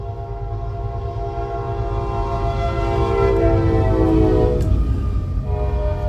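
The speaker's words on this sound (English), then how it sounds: "Incoming train." Train approaching in Saints Row 3, a loud sustained horn blast over a heavy rolling rumble that swells as it nears, with no talk.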